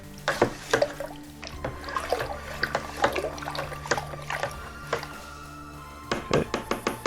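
Yeast being stirred into mead must in a container, with soft liquid sloshing, dribbles and irregular knocks of the spoon against the vessel, close and quiet, ending in a quick series of taps.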